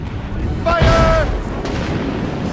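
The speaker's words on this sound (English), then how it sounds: "Mortars incoming!" Mortar and cannon fire erupt during a naval battle against fire ships in Assassin's Creed Rogue, a loud boom with a rising whistle over constant battle rumble, while a voice shouts over the din.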